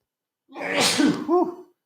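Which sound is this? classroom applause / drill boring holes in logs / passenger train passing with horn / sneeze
sneeze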